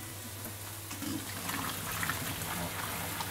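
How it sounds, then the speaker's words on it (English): Boiled pasta water, cooked with a dash of oil, is poured off into a colander in a kitchen, producing a steady rushing splash that builds slightly and holds at a constant level. "So we're just going to drain that into the colander."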